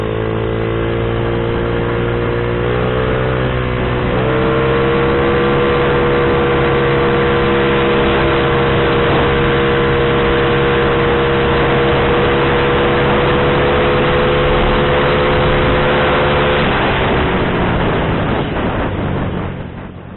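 A Honda Vario 130cc carburetor scooter with a standard CDI runs at full throttle. Its engine holds a loud, sustained high drone, and the pitch climbs and shifts as it pushes toward top speed before easing off near the end.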